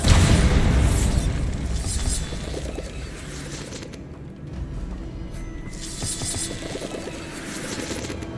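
A loud magical explosion from the Bombarda spell in Hogwarts Legacy booms at the start, then rumbles and crackles away into lingering debris and a second softer swell of noise.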